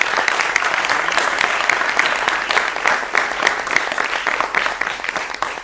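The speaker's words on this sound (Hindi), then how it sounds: "जोरदार तालियों से उनका स्वागत करेंगे हमारे साथ।" A studio audience applauds to welcome guests on a Hindi television news debate show, with dense, steady clapping that stays loud and even throughout, no voices over it.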